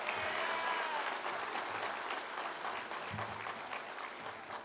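Sustained applause from a political party gathering crowd honouring its president, a dense steady clatter of clapping filling the whole stretch at even loudness with no voices over it.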